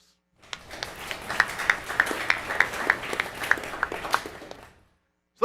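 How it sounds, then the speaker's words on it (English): Audience applause at a business conference, a burst of many hands clapping that rises quickly, holds for about four seconds with scattered sharper claps, then fades out. "So let's give everybody here a round of applause."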